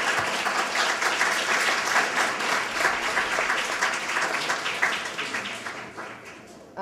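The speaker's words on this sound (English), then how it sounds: "we can definitely give him a round of applause in spirit" A round of audience applause at an awards ceremony for African American organizations, steady dense clapping that holds for several seconds and then tapers off near the end.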